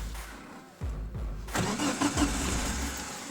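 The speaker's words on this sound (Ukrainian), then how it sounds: "все працює стартер крутить" A VAZ 2101 car's starter motor cranks briefly with a rhythmic whirring, then the engine catches and settles into a steady idle nearby.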